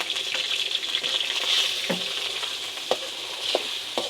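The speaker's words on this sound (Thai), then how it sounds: "พัดเครื่องในให้สุกก่อนเลยทุกคนมันจึงบ่คาวเนาะ" Offal stir-fries in a pan with a steady loud sizzle, while a utensil stirs and knocks against the metal a few times, close by.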